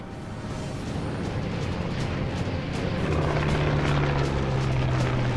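A P-51 fighter's piston engine drones steadily during aerial combat, a loud continuous roar that gradually swells and deepens in pitch as the plane accelerates.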